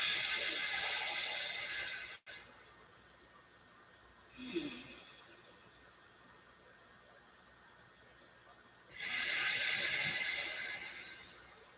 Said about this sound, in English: Listen to the breath as you breathe and visualize.